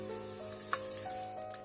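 Oil poured over hot charcoal set among tandoori seekh kebabs, cherry tomatoes, green chillies and onions sizzles and crackles steadily up close, with a couple of sharp pops.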